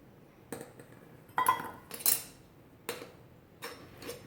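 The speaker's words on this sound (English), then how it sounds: "I level it all off with a knife to make sure that it's even, so I have the right amount" A measuring cup of flour being scooped and leveled off with a knife gives sparse, quiet scrapes and light clinks of metal against the cup, about five separate short touches in a near, otherwise quiet kitchen.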